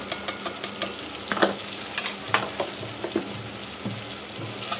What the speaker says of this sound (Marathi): छान असा मसाला सुद्धा तेलामध्ये फ्राय करायचा आहे